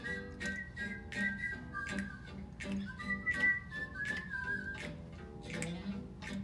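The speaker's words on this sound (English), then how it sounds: "Can you whistle along too?" A bright, wavering melody whistled over a steady bouncy musical backing, the tune rising and falling in short phrases, at a children's storytime.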